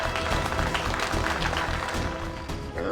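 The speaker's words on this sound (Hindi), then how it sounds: "एक बार तालियां हो जाए भाई" A crowd applauds at a family gathering, giving a continuous wash of clapping over a low tonal background that dips slightly toward the end.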